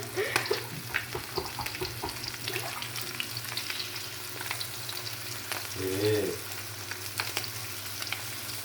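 Garfish frying in a pan, a steady close sizzle and crackle of hot oil with occasional stirring, continuous throughout with a brief muffled voice-like sound near the middle.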